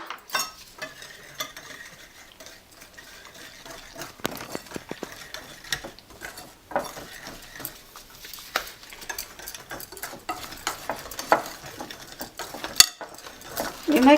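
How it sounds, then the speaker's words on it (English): Icing sugar being beaten into room-temperature butter for Afghan cookies: irregular scraping and clattering of a utensil against a bowl, uneven and fairly quiet, with occasional sharper knocks. "I'm going to put 1 cup of icing sugar on that and mix it through until it's fluffy and creamy"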